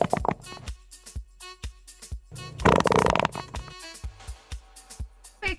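A played-back fart sound, a wet-sounding one, comes as a string of short blurts and one longer sputtering burst in the middle, loud and close with no talk over it.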